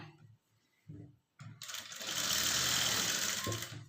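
A few short bumps and a faint voice come first, then a sewing machine starts stitching a blouse and runs in one steady, loud, continuous whir to the end.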